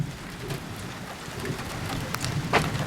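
Rain falls steadily outdoors at dusk, a dense even hiss of drops on surfaces with a few louder splats, continuous and alone without talk.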